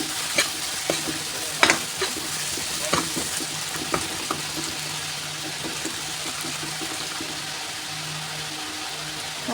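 Masala for Bengali chicken kosha fries in a pan with a soft continuous sizzle, broken by repeated scraping and clacking strokes of a spoon stirring it close up.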